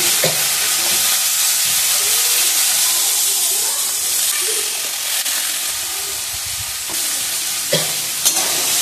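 Potato pieces with turmeric and asafoetida sizzling loudly in hot oil in a home kitchen, a steady broad hiss lasting throughout with occasional stir clinks and faint background talk.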